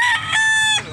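A hen at an animal market in San Carlos, Pangasinan gives one loud, close cluck lasting under a second.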